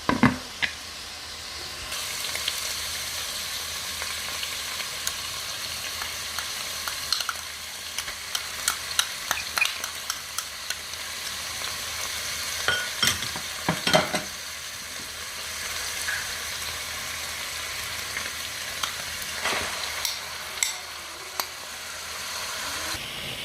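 Food simmers and sizzles in oil in a pan on the stove, a steady crackling hiss running throughout with scattered pops and louder spatters, close and alone with no talk.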